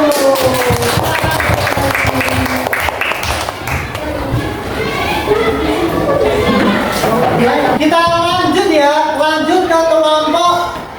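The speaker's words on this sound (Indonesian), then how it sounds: "tepuk tangan untuk kelompok 1" A class of fourth-grade pupils claps for a student group during a lesson, loud and busy, mixed with children's chatter and a teacher speaking, then voices singing or chanting together toward the end.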